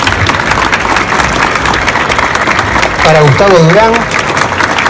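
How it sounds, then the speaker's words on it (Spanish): An audience at a book collection presentation at a book fair gives strong applause for the authors. Dense, steady clapping runs throughout, with a voice speaking over it. "un fuerte aplauso para Graciela Malfi"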